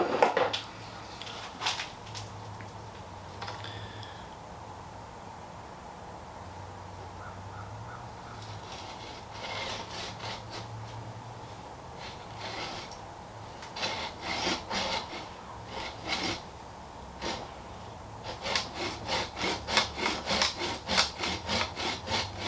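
A hand saw cuts through the trunk of an Ebihara trident maple bonsai, its rough rasping strokes starting sparse and growing into a fast, steady back-and-forth rhythm, close up with no talking.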